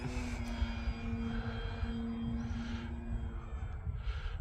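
An FMS Pitts radio-controlled model biplane flying overhead, its propeller engine giving a steady droning whine that rises and falls slightly as it turns, moderately distant over faint outdoor background, with no speech.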